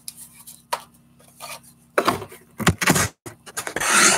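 A knife trims raccoon fur with short, uneven scraping strokes and soft knocks, scattered at first and then coming in quicker bursts of rough rasping toward the end.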